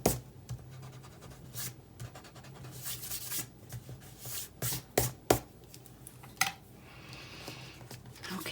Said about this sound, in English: So now we can take our eraser and erase any of the pencil lines.